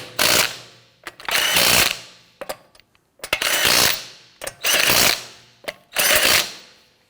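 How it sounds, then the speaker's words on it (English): Lug nuts on a Hyundai Elantra front wheel are driven down by a power tool in loud, close bursts of whirring ratchet noise, about five main runs separated by short gaps and brief clicks. "Go ahead and torque down your lug nuts to 85 foot-pounds."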